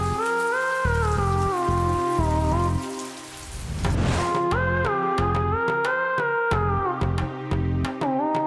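Steady rain falls during a sudden downpour, a constant wash of noise heard beneath a louder melodic music score that dips briefly midway, with no talking.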